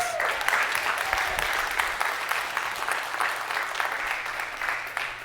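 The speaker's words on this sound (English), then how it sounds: "Can we give a round of applause for our judges, please?" Online pitch event audience applauding the judges: steady, dense clapping throughout, with a faint voice briefly audible near the start.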